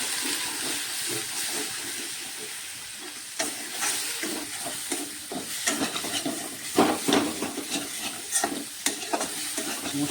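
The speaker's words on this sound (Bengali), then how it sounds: "এখন এগুলো একটু ভালো করে ভেজে নেব।" A spiced banana flower mixture with Kashmiri chilli powder fries in hot oil, a steady sizzle under repeated scraping stir strokes that grow busier and louder in the second half.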